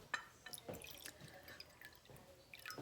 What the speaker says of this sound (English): So I am going to pour some water in this bowl.